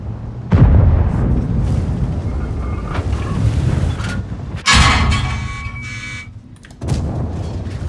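Heavy tank cannon shots boom out in World of Tanks, with three loud, sharp blasts spaced several seconds apart, each trailing off into rumbling engine and battlefield noise.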